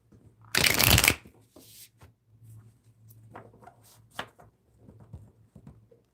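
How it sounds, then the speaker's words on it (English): Tarot cards shuffled by hand in a quiet room: one loud, dense riffle burst of about half a second, followed by softer scattered card taps and shuffles. "Shuffle these cards up."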